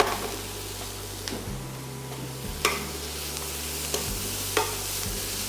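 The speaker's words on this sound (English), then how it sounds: "I'm just going to put a little knob of butter in there at this stage too" Butter sizzling in a frying pan with onions, cooked alongside an Angus scotch fillet steak; a steady, soft crackling fry with occasional small pops, no talk.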